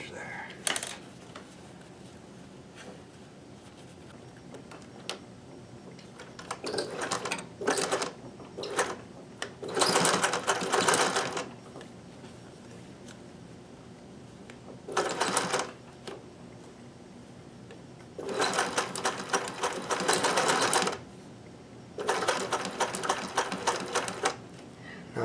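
A domestic sewing machine stitches along a folded fabric edge in several short bursts of rapid mechanical whirring, separated by quiet pauses and soft handling sounds.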